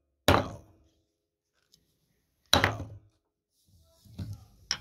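A gavel bangs on a hard surface twice, each a sharp, loud wooden thunk with a short decay, separated by a couple of seconds of quiet, then softer knocks and shuffling follow.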